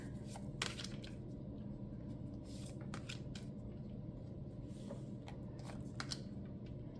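Tarot cards being shuffled by hand for a reading, giving a steady run of soft riffling and papery slaps with brief crisp bursts over a low room hum. No one speaks.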